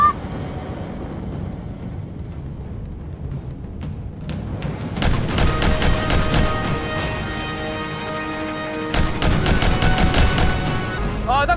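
Bursts of toy gunfire crackle in rapid volleys during a capture-the-flag shooting game, sparse at first, then dense and loud for several seconds, pausing and surging again near the end.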